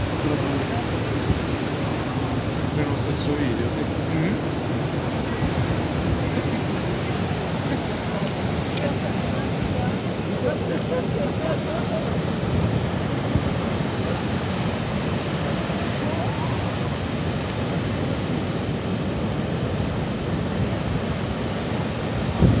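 A stormy winter sea breaks around the pier at Ostia at sunset, a steady, loud roar of surf mixed with wind buffeting the microphone, continuous and unbroken throughout.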